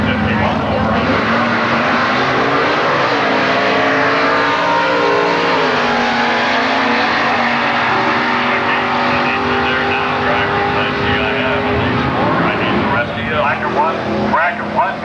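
A 1967 Ford Mustang with a 351 engine runs at a Milan Dragway drag race in 1999, its loud engine climbing through rising revs and sustained roaring, with an announcer talking over the noise.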